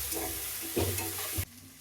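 Tomato, coriander and mint leaves sizzle in hot oil for an egg dum biryani, with a soft frying hiss broken by a few utensil scrapes and stirring knocks, close by, cut off abruptly near the end.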